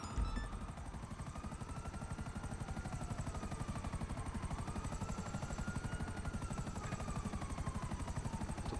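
A helicopter flying in a video game heist mission, steady rapid rotor chop with a whining engine tone gently rising and falling, loud and continuous throughout with no talk.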